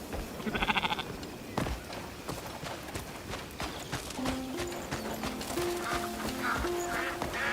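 Sheep bleat in a wavering tremolo early on, amid hoof clops and scuffling on the ground, with further rising animal calls and rustling near the end.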